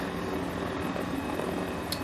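A Mini 500 helicopter in Microsoft Flight Simulator gives off a steady rotor and engine drone, a constant mechanical whir that stays close and even throughout.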